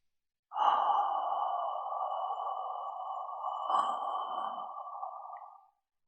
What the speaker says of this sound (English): First, I breathe out slowly.